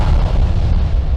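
Blasts fired at a spaceship in an animated children's film, a dense, continuous low rumble of booming shots, loud and close, with no talking over it.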